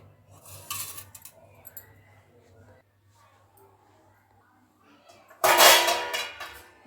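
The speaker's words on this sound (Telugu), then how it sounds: "సాయంత్రం దోయిన బోళ్ళు అయితే అన్ని రాకులు తీసిస్తున్నా" Washed steel dishes and utensils are lifted out of kitchen racks, with light clinks early on and a loud burst of clattering metal near the end; someone talks quietly in between.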